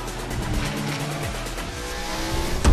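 A video game Lamborghini, seen during a big online game event, drives with a continuous engine drone and tire noise, the pitch gliding and shifting, a louder burst near the end.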